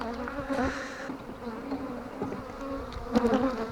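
A dense, steady hum of many honey bees buzzing close by at a log hive during acacia bloom, continuous throughout with small swells in loudness.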